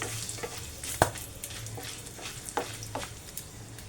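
Whole spices, including dried red chilli and black pepper, stirred in hot oil for a creamy Mughlai dish, giving a soft background sizzle with scattered scraping clicks from a spoon and one sharper knock near the start, no voices.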